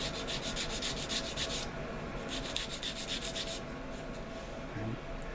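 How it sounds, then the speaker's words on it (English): Sandpaper rubs steadily along a wooden arrow shaft, a continuous close, fairly loud scratchy sanding with rhythmic strokes and no talking. "start to kind of refine it a little bit with some sandpaper"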